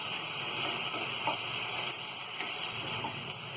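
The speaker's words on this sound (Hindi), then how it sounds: "अब हम इसमें ये टमाटर डाल देंगे और टमाटर को हम जब तक पकाएंगे जब तक कि ये सॉफ्ट ना हो जाए" Tomatoes fry in an oiled pan for masala Maggi noodles, giving a steady, close sizzle with faint crackles and no talk.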